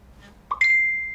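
An LG Wing phone plays its message notification: a soft knock followed by a bright, sustained chime that rings on and slowly fades, clear and alone against quiet background hiss.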